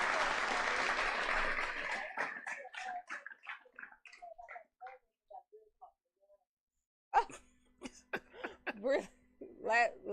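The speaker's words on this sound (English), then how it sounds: "let me get a clap" A loud burst of clapping and cheering fills a radio studio for about two seconds, then fades into scattered claps and voices before people resume talking.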